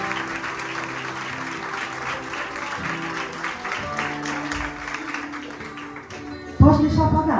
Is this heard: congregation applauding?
yes